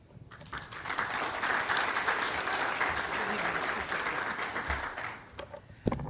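Audience at the 2022 Delaware Women's Hall of Fame awards ceremony breaks into sustained applause lasting several seconds, fairly soft and even, then tapering off.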